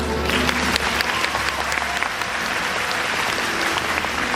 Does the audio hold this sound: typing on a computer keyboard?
no